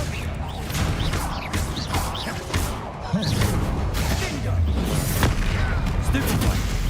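Spell blasts in Hogwarts Legacy combat crack and boom repeatedly in quick succession, loud and busy, under a voice loudly calling out spell names throughout.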